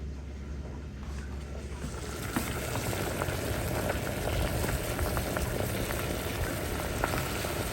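A continuous bubbling, rumbling churn of water boiling hard in a pot for cooking mung beans, steady and close, with no voices.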